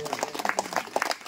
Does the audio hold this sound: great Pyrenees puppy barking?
no